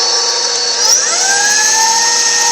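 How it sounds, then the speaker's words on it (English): An electric grain mill set to speed 2 grinds rice into flour, giving a steady, loud, high-pitched mechanical whine with rising tones as the motor spins up, up close and without talk. "I'm going to start grinding. Putting the grinder on speed 2"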